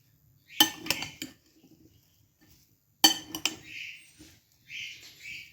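A spoon clinks and scrapes against a bowl while fruit chaat with banana and dates is mixed, two short bursts of clattering strokes separated by a pause, close and fairly quiet.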